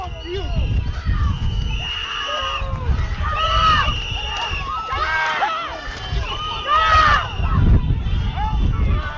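Observers in a street crowd shout at agents walking back to their vehicles, with many overlapping raised voices in bursts, close and loud outdoors.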